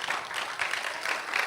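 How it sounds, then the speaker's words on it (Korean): Applause from a church gathering of children, a brief, steady patter of many hands clapping together, moderately loud and even throughout with no talk over it. "박수."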